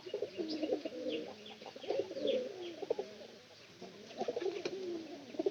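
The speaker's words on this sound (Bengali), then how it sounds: "এটা আমার উপরে পায়রা মনে হয়" Pigeons coo repeatedly from a loft overhead in rolling, throaty phrases, fairly close and clear, with a few short chirps mixed in and no talk.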